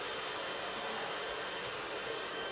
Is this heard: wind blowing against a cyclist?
no